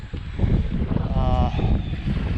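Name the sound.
strong wind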